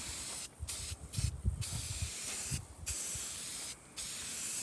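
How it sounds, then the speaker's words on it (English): Satin white Krylon spray paint is applied to a drive shaft in a series of short hissing bursts of varied length, separated by brief pauses, close and moderately quiet. "you get the satin white Krylon spray paint, and you slowly apply to your drive shaft"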